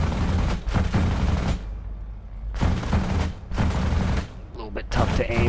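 Bf 109 F4 fighter cannon and machine guns in a video game, firing several loud sustained bursts separated by short pauses, with a voice talking over part of it.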